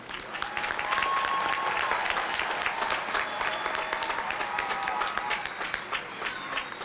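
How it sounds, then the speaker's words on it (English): A large crowd at a high school commencement ceremony applauds steadily in a dense, sustained wash of clapping that holds at the same level throughout. "Please join me in a round of applause to recognize our top scholars."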